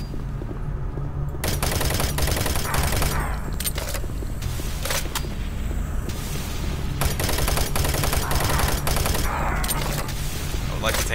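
Sustained automatic gunfire in Doom 3, loud dense bursts of rapid shots crackling back and forth with brief pauses between volleys, heard close up.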